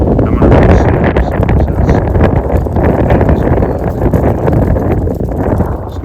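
Steady wind around 11 miles an hour batters the microphone outdoors, a loud, continuous rumbling roar with constant crackly buffeting and no letup.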